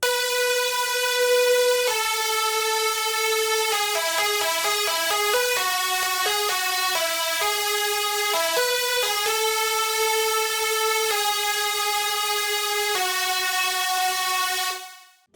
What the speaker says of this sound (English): Together the lead melody sounds like this.